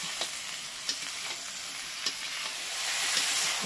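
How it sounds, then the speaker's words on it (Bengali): Cauliflower, flat beans and potato sauté with spices in an oily pan, a steady sizzle broken by a few sharp scrapes of a spatula stirring, close and moderately loud with no voices. "এবার এটাকে দিয়ে ভালো করে কষিয়ে নেব।"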